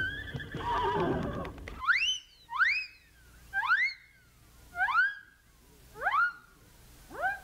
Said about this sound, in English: And Cinderella watched sadly as the horses were changed back into mice